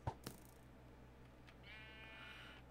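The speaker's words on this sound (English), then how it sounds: "Get off me, sheep." A sheep bleats in a video game, a drawn-out wavering bleat rising in the second half after a couple of short clicks, fairly faint against quiet background hum.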